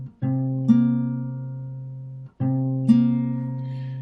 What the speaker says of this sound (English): That's the sound of a minor seventh.